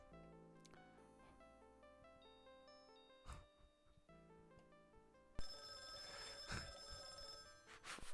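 A telephone rings with a repeating electronic tone pattern, fairly faint at first and then louder and brighter partway through, with no voices over it.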